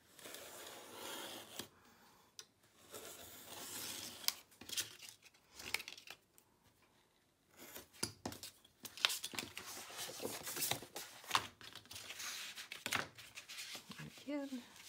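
A blade trims paper for a Graphic 45 mini album, giving a series of soft scraping, crinkling cuts and light taps at close range, with quiet talk underneath at times.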